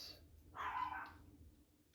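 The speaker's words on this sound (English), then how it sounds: "And I hear my dogs barking" Dogs barking at a backyard fence, a single muffled bark or yelp heard from some distance over a low steady background hum.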